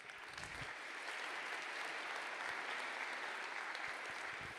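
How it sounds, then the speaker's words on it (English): A university welcome-class audience applauds steadily, with dense, even clapping that holds at a moderate, slightly distant level throughout. "Give a big round of applause for Jagoda and the entire Erasmus office."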